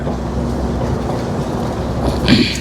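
A silver double-decker train at Chicago Union Station gives off a steady low rumble and hum, close and continuous, with a brief higher hiss near the end.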